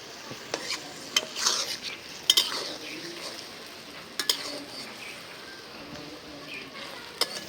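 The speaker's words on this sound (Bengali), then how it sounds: "এই মাছগুলো মশলার সাথে কষাই দিব" Hilsa fish pieces sautéed with spices in a pan for a bottle gourd curry, a steady soft sizzle broken by several sharp scrapes and clinks of a spatula stirring against the metal, heard close with no talk.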